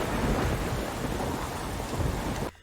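Steady heavy rain with rolling thunder from a night storm scene in the film Waking Ned Devine, loud and continuous throughout before cutting off abruptly at the end.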